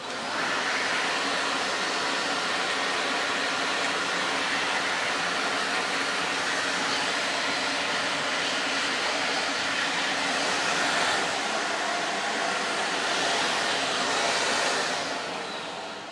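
A Dyson vacuum cleaner running with its stretch hose extended gives a steady, loud broadband whoosh and hiss that holds nearly constant throughout, with no voices.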